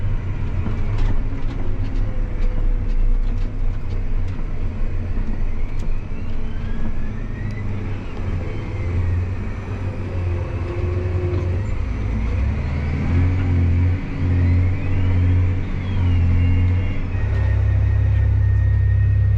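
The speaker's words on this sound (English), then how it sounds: "there's a vehicle coming, so I'll just move off the road" A vehicle on a road beside a peanut field passes as a loud, continuous low rumble and engine drone that swells toward the end.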